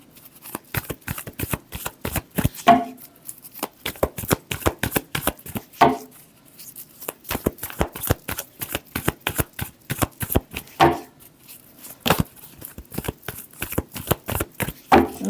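Tarot cards are shuffled by hand in a quick series of crisp riffling bursts, close and fairly loud, repeating with short pauses throughout and no voices.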